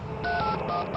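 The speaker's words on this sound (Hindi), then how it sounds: "ऑर्गेनाइजर्स को फोन लगाओ अभी" Quick telephone keypad tones beep in a short series as a number is dialed, close and clear over a faint background hum.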